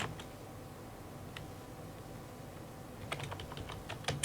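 Someone types on a computer keyboard while entering text in MS Word. A few isolated key taps come first, then a quicker burst of close clicks near the end, with no talking.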